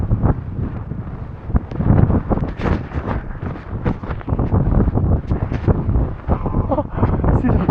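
Strong wind roars across a mountain pass in the Yukon subarctic, buffeting the microphone loudly and continuously in heavy gusts from start to finish.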